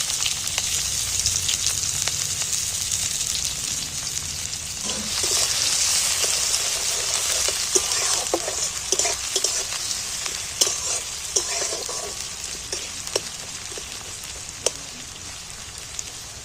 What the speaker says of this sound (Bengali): আমি কাটা পেঁয়াজগুলো তুলে দিচ্ছি তেলের মধ্যে